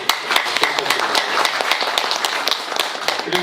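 A small group at a staff training gathering claps briefly, a quick burst of scattered, close hand claps with voices mixed in.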